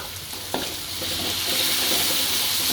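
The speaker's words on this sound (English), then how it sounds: "you can put in your green chilies, stir fry for a bit" Green chilies and tomato paste stir-fry in a pan for chicken masala, with a steady hiss of sizzling, a sharp scrape of a utensil near the start and soft stirring scrapes throughout. There is no talking.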